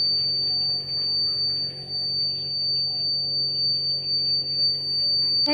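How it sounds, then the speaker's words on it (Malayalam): A homemade water tank overflow alarm sounds, its buzzer giving a thin, steady high-pitched tone that holds throughout over low background hum. "ഇതേപോലെ വീണ്ടും നിറയുമ്പോൾ ബോക്സ് വന്ന് തട്ടും ബസറടിക്കും"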